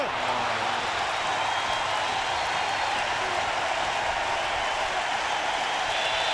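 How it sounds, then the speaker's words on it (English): A stadium crowd at the 2000 Home Run Derby in Atlanta applauds in a standing ovation, a dense, sustained roar of clapping and cheering that stays loud throughout with a broadcaster talking over it. "even his opponent is clapping"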